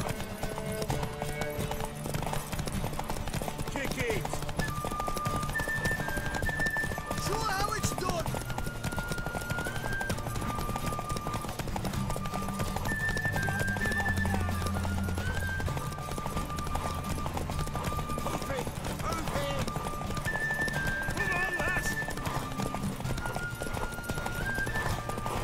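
A horse gallops hard in a race in The Witcher 3: Wild Hunt, with rapid, steady hoofbeats and occasional whinnies throughout, and game voices and music layered over it.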